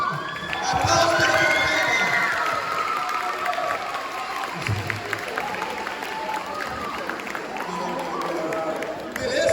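An audience of students claps and cheers steadily in a lively room, the applause dense and continuous with scattered shouts and some voices mixed in.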